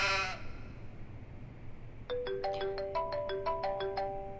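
A mobile phone ringtone plays a bright repeating electronic melody, fairly faint, starting after a brief moment of room noise with no talking over it.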